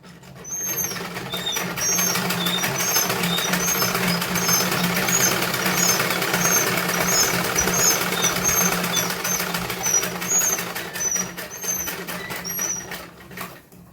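Sewing machine stitching together the two layers of a salwar's drawstring waistband casing, a steady continuous mechanical whir running for the whole stretch at an even, moderately close level, with no talking.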